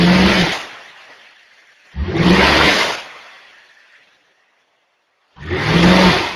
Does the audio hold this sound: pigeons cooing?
no